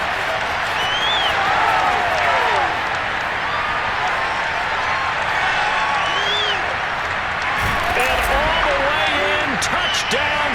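A stadium crowd in Madden NFL 22 roars and applauds after a Seattle touchdown, loud and sustained, with whistle-like cheers rising over the noise and a sharp thump partway through.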